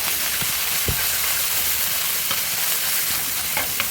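Garlic and chili curry paste frying in a hot pan, a steady loud sizzle and hiss throughout with occasional scraping stirs and clinks, close and continuous with no talking.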